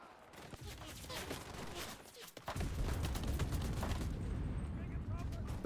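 Rapid bursts of KP-26 submachine gun fire in the video game Enlisted, sharp repeated shots clustering into dense volleys, with a person talking over the gunfire.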